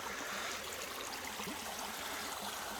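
Honeysuckle Creek in Kanawha County, West Virginia, flowing steadily as a constant broadband rush of running water, even and unbroken throughout, with no voices.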